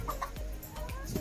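Wild chickens and a rooster clucking outdoors, several close, loud, overlapping clucks in quick succession.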